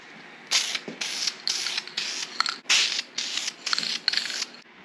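A 1969 Mustang Mach 1 engine timing cover being spray painted, heard as about eight short, loud bursts of hissing spray, each lasting roughly half a second, separated by brief pauses, with no talking.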